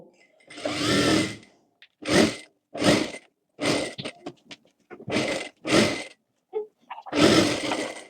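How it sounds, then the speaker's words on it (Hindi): A sewing machine runs a line of edge stitching on a blouse in a series of short, close bursts separated by silent pauses, with a few brief clicks of handling between runs. "ऊपर की साइड हम यहाँ पर एक एक सिलाई लगा लेंगे, जो हमारी धार सिलाई होती है वो"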